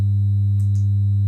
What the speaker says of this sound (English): So when I is 1, it'll be a 100 hertz tone.